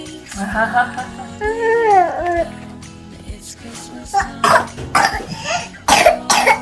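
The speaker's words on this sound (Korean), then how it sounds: "어머, 이렇게 기침을 하네." A toddler coughs at home in several harsh, close bursts near the end, after a stretch of an adult talking over a soft background.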